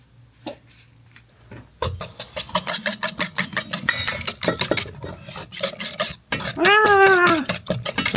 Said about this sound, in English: I'm going to mix it up and we'll put it in our crusts